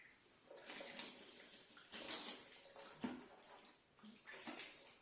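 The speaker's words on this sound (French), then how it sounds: "Je prends l'eau avec la droite." Water scooped and splashed with the right hand during Islamic ablutions, soft swishing and trickling in irregular bursts, close and quiet.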